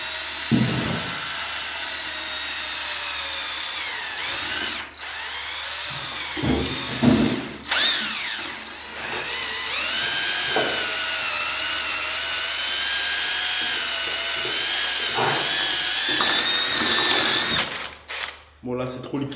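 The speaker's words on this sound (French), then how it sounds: "on va ajouter notre eau et mélanger" A power drill churns tile grout powder and water into a mix, a loud steady whine held for most of the stretch with brief pauses and speed changes, no talking.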